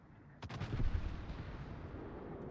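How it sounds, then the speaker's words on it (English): A destroyer's guns fire at point-blank range on the Kremlin battleship in a naval video game, one sudden booming volley followed by a rumbling, fading echo, with no voices. "Oh, the destroyer on your Kremlin, point blank range."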